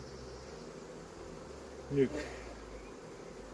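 Honey bees buzz steadily inside a nuc box during a hive split, a continuous close hum with one short spoken word over it partway through.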